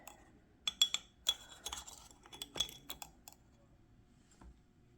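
Scattered light clinks and taps sound as a utensil stirs sugar and salt in a bowl for pizza dough. The sound is quiet and irregular, with no talking.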